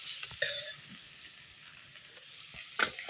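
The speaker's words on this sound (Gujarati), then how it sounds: "મરચાં જો પેલા તળી નાખ્યા છે શાક મૂકી દઉં" Vegetables for undhiyu drop into a pan of oil with already-fried chillies, giving a soft, steady sizzle broken by two sharper bursts of crackling, one early and one near the end.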